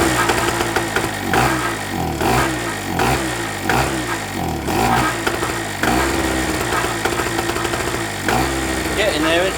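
A warmed-up 2-stroke petrol generator engine, restarted without choke, runs loud and close with a rough, pulsing rhythm that steadies and smooths out toward the end.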